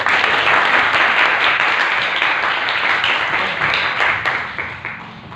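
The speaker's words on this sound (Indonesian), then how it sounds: "Tepuk tangan, Nak." Children in a seminar audience clap together in sustained, dense applause that continues steadily and close for several seconds, fading slightly toward the end.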